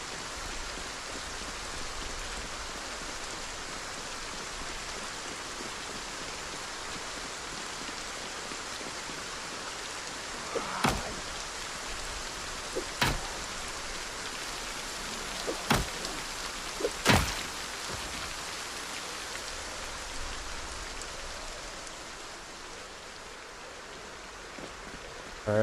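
Steady, even rain hissing across a video game scene, with a handful of sharp knocks and clicks cutting through around the middle; no voices.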